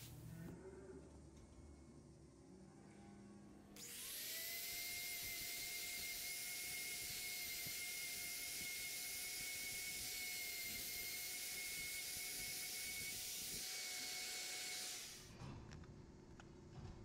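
Power tool trimming a dairy cow's hoof while checking healed lesions: a loud, steady high-pitched grinding whine runs for about eleven seconds, with quieter handling sounds before and after.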